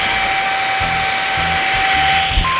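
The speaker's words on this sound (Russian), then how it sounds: "Будем пылесосить." A vacuum cleaner fitted with a small attachment runs steadily with a loud, high, whining motor hum and a constant airy roar, close by, with no talking over it.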